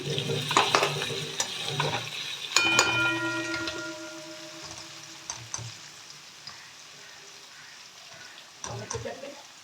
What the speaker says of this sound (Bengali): আর এখানে পেঁয়াজ ভাজছি।